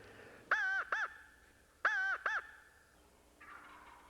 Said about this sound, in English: thought I heard that gobble up in here